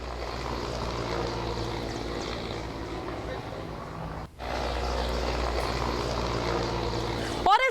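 A helicopter flies in news footage, its engine and rotor making a steady loud droning rumble that cuts out briefly midway and then resumes, with people talking over it.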